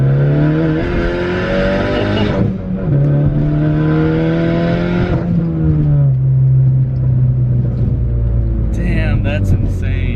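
A Fox body car with side dump exhaust revs hard and loud, rising and holding in long pulls with a raspy exhaust tone, settling to a lower drone before a brief sharp squeal.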